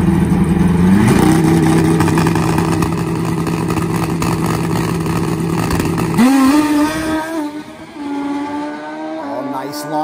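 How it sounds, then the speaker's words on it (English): A 700hp turbo nitrous pro drag bike launches down the drag strip, its engine screaming at a high sustained pitch before shifting and fading away, with an announcer talking over it. "Oh, nice launch, Niki."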